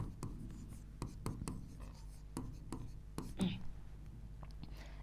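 During a physics lesson on optics, marker or chalk taps and scratches across a board in a quick series of short strokes, faint and close over a low room hum.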